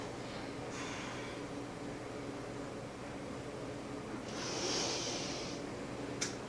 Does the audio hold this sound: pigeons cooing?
no